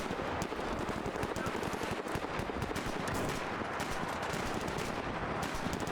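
Dense rapid gunfire in the video game Fallout, with a hunting rifle involved, a continuous barrage of crackling shots at a steady, fairly quiet level with faint talk underneath.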